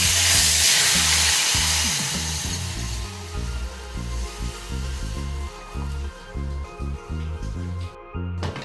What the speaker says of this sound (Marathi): तूप गरम झालेलं आहे. आता मी त्याच्यात जिरं टाकते.